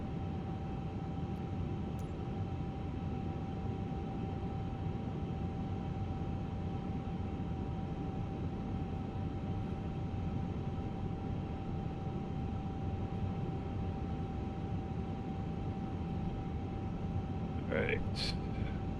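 Steady broadband hum of an Airbus A350-1000 auxiliary power unit running in a flight simulator, a constant drone with a faint tone throughout and a short brief chirp near the end.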